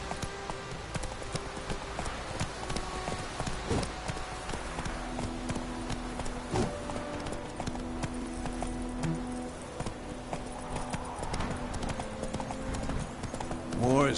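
Roach, Geralt's horse in The Witcher 3, running with rhythmic hoof clip-clops under character dialogue and game ambience, with a faint whinny among the hoofbeats.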